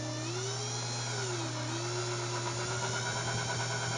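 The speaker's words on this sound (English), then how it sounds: "So let's start drilling." A power drill whines steadily at moderate volume, its pitch wavering slightly as it runs, with a constant low hum underneath.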